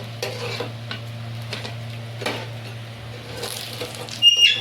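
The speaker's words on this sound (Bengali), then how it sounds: "যেগুলো বাকি ছিল সেগুলোকে এবার ভালো করে লাল লাল করে একটু উল্টো পাল্টা ভেজে নিচ্ছি" Potato and flour snacks fry in a pan of oil, a low steady sizzle broken by scrapes and taps as the pieces are turned, ending in a brief louder clatter, with no voices.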